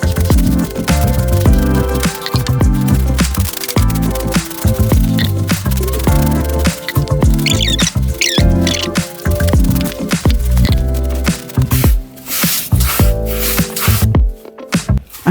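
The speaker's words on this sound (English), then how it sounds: "using the masonry brush to apply the mixture to the grout was so much easier" Masonry brush scrubbing lime wash mixture into the grout lines of a stone fireplace, loud close wet scraping and squishing strokes in a dense, continuous rhythm.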